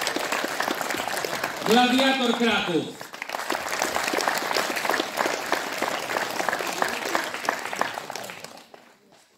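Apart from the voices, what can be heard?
audience applause at wrestling league opening ceremony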